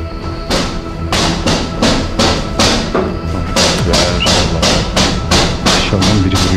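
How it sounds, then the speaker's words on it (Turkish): Repeated knocking thuds from downstairs in an abandoned house, a steady series of about fifteen sharp, loud impacts spaced roughly half a second apart over a low background rumble. "Aşağıdan biri vuruyor."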